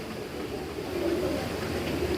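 Pigeon cooing in a cage, a soft low repeated coo over a steady background hum, close and continuous.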